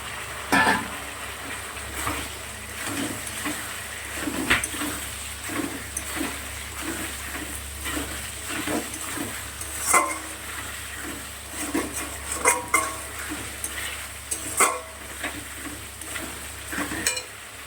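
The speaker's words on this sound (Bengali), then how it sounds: "কিছু সময় কষানো হয়ে গেছে মশলাটা, আলুগুলোকে দিয়ে দিচ্ছি।" Potatoes added to a spice masala of tomato, ginger and cumin paste, frying and being stirred in a pan: low sizzling under repeated rhythmic scrapes and knocks of a spatula, steady and close for the whole stretch.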